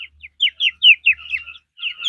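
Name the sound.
25-day-old quail chirping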